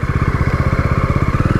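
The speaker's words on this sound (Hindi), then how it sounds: "अब करते हैं गाड़ी को स्टार्ट" A Jawa 42 BS6 motorcycle engine runs close by with a fast, even thumping pulse, loud and steady, with no voices.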